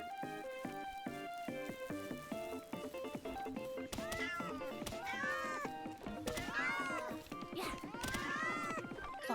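Cat in the video game Palworld meowing over and over in rapid, insistent bursts, loud and close, some calls stretching into caterwaul-like wails alongside occasional thumps.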